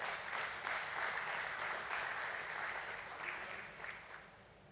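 Sustained audience applause at a stock exchange listing ceremony for Muthoot Microfin Limited at BSE, steady crowd clapping throughout that thins slightly toward the end, with no talk over it.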